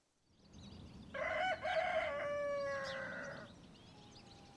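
A rooster on its perch at a farm in rural Auvergne lets out one loud, drawn-out crow lasting about two seconds, clear and fairly close over faint outdoor background noise.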